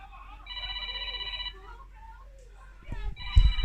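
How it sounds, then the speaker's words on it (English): A phone ringing in a home, two bursts of a steady electronic ring tone, the second cut short by bumps and handling noise. "got to go because my sister's ringing me"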